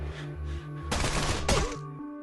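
Gunfire from the 1997 North Hollywood shootout, with two dense bursts of shots cracking through a low background hum, each burst lasting about half a second.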